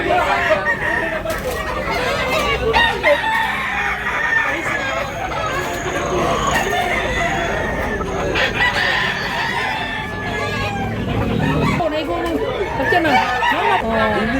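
A dense chorus of roosters crowing and hens clucking fills a cramped poultry market in Tabunok, Cebu, with people chattering and talking throughout beneath the birds' overlapping calls.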